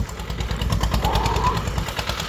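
A tractor's diesel engine runs with a rapid, chugging rhythm, loud and steady throughout, close by.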